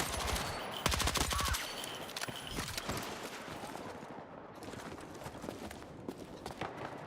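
Rapid PW7A2 rifle fire in Battlefield 6 rattles in dense bursts, loud and close, mixed with chaotic battlefield noise and impacts throughout.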